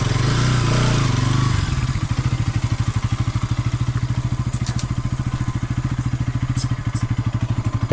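A Bajaj Pulsar NS200 motorcycle rides downhill along a jungle trail in Himachal Pradesh, its engine thumping close and loud in a steady pulsing beat after a brief rougher start, with no speech.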